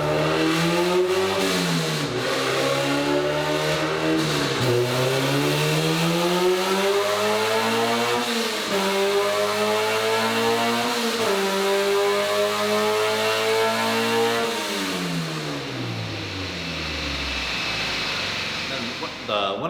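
Loud engine revving hard on a roller dyno in a K24-swapped EG Civic, climbing through repeated rising pulls with brief drops between shifts, sustained and close for most of the stretch before easing off at the end.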